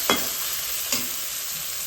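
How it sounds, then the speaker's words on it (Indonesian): Bok choy and instant noodle seasoning being stirred in a pan, with two short scraping strokes over a steady hiss of sizzling. "Kemudian kita aduk supaya merata."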